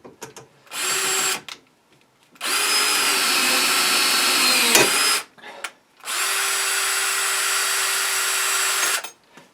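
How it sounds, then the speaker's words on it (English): A power drill bores a hole through a homemade lawn tractor bumper and brush guard, running in three loud sustained bursts with short pauses between them and a brief pitch dip mid-run. "I'm going to take these off, drill the hole through"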